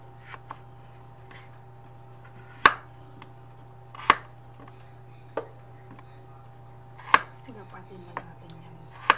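A knife slices potatoes for pochero, about six sharp isolated cuts on a board spaced a second or so apart, close and crisp over a low steady hum, with faint softer taps between.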